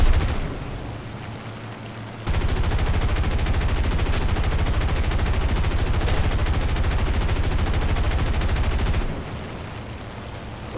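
Rapid sustained barrage of 4.5-inch naval gunfire in a video game battle, a loud dense stream of shots running for about seven seconds before abruptly cutting off.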